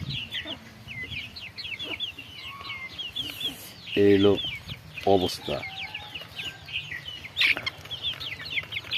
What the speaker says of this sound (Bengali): এই যে মুরগি আছে বাইরে